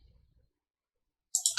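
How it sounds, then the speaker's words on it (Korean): A computer mouse clicks twice in quick succession, crisp and close, after a near-silent stretch that opens with a faint low rumble. "클릭"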